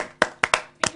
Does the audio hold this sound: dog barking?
no